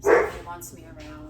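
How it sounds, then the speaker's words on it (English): A pet dog barks loudly nearby, one sharp bark at the start, followed by someone talking over quieter background sound. "That's my dog"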